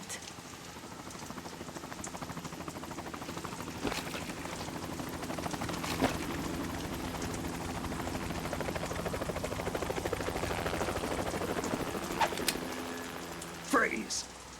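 A helicopter in the PS2 game Metal Gear Solid 2 drones as a steady, dense rotor wash throughout, with faint game sound effects layered over it and a brief sharper noise near the end.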